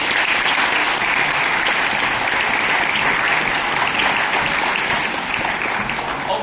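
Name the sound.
audience applause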